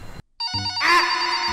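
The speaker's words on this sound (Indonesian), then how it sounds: "Ada telepon." A telephone ringing in bright electronic tones, loud and close, briefly interrupted by a short silence before the ring resumes.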